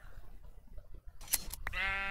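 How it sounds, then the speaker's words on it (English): A sheep in the Minecraft video game gives a short, wavering bleat at the end, preceded by a few soft clicks over quiet background; brief and fairly clear. "and I just need one more sheep"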